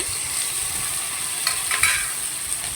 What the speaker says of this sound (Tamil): இதையும் நல்லா வதக்கிட்டு கருவேப்பிலை போட்டுக்கலாம்